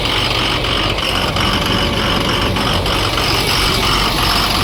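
A Cummins diesel engine that sat for years runs at a steady idle, loud and close, with a constant low rumble and mechanical clatter throughout and no talk over it.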